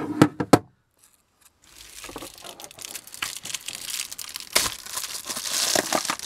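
Reflectix foil-bubble insulation is pulled off an RV window, with a few sharp crinkles, a short silence, then continuous close crackling and tearing that grows louder as the sheet comes away.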